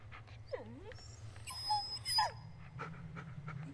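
A dog in the PS4 video game Blair Witch panting and whimpering close by, with a rising whine, a couple of breathy pants and soft yips over a low, steady ambient hum.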